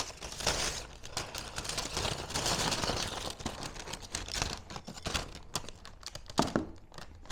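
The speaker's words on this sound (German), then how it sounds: "Ich schütte die Pommes in die Tüte." French fries rustle and patter into a crinkly paper bag, a continuous scattering tumble that thins out into a few separate taps and crinkles.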